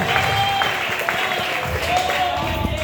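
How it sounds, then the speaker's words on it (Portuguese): A church congregation applauds during a sermon, a continuous wash of clapping and crowd noise with a preacher's voice running over it. "Aplauda ele nessa noite, aplauda!"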